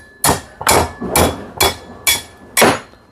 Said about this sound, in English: We have the hammer, maybe, close by.